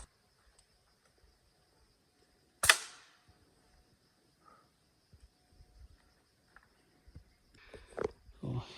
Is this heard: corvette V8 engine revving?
no